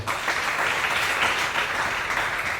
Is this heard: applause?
yes